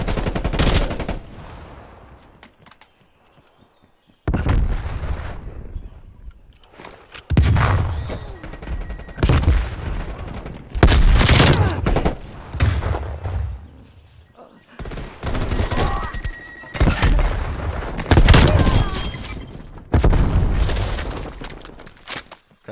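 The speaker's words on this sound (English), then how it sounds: "this gun's a three burst weapon" Three-round burst gunfire in Call of Duty rings out in loud, close, clipped volleys, several bursts fired one after another with short quiet gaps between them.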